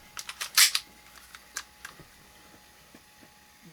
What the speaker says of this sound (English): I'm gonna clear the mag here.